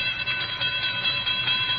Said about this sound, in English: I stopped the car at a sleepy little junction just across the border into Oklahoma to let a train pass by.